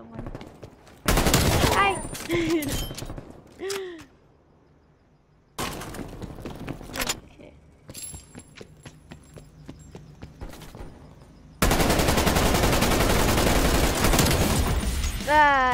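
Rapid bursts of gunfire from a shooting video game, loud and dense in several stretches with a sustained volley near the end, while a player talks excitedly between shots.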